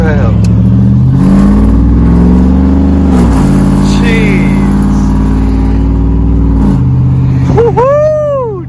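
A pickup truck with its catalytic converters removed revs loudly and steadily up close, its deep, harsh exhaust roar swelling and falling for several seconds before easing off at the end.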